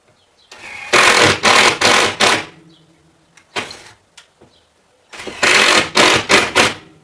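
A power drill drives screws through old sheetrock into wood blocks behind it, two loud whirring bursts of several rapid pulses each, separated by a quieter pause with faint knocks and handling.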